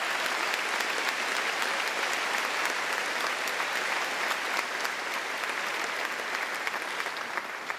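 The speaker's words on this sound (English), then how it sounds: "How about a round of applause to recognize them and their service?" Sustained applause from a large crowd at a high school graduation ceremony, steady dense clapping at even volume for the whole stretch with no speech over it.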